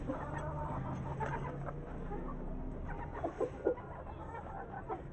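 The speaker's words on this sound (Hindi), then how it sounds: "ये हमारी असील मुर्गी और मुर्गा बाहर आ गए।" An Aseel hen and rooster clucking nearby with soft intermittent clucks and a few sharper calls over low background rumble and faint voices.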